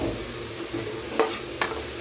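Marinated pork cooks in a pan for adobong sitaw. A soft, even sizzle runs throughout, and two sharp clinks of a utensil strike near the end.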